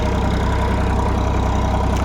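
A large full-size farm tractor's engine idles close by, making a steady, even low rumbling drone with a faint regular throb and no pauses.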